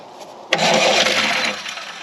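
A Craftsman LUV lawn utility vehicle riding mower engine cranks once and fires up on carburetor cleaner, a sudden loud catch followed by a steady close running roar that eases off toward the end.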